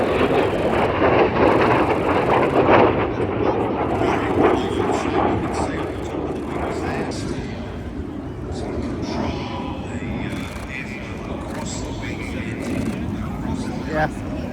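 A MiG-17F (Lim-5) jet with a centrifugal-flow turbine engine flying at the Midlands Air Festival produces a broad, steady roar that fades slightly over time, heard under a commentator speaking over a public address.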